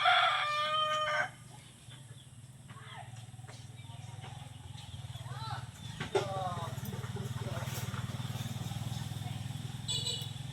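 Rooster crowing and chickens clucking on a farm with coconut and durian trees, a crow at the start followed by scattered clucks, over a steady low motor drone in the background.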